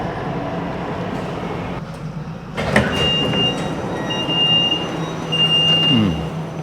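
Train pulling into Cochrane station with its doors opening, a steady rumble of carriage noise, a sharp clunk and whoosh of sliding doors, and thin tonal chimes and squeals as it slows.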